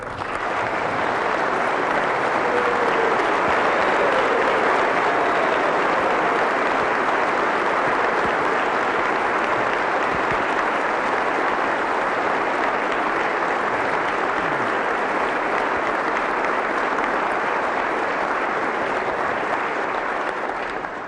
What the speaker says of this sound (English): Please give our great National Guard an incredible round of applause